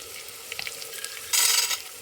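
Carrots and peanuts frying with onion in a pan: a low steady sizzle with a few light stirring scrapes, then a brief louder burst of hissing near the end.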